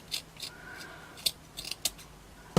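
A few sharp, close snips of scissors cutting excess string from a tassel, spaced irregularly, with quiet rustling between cuts and no voices.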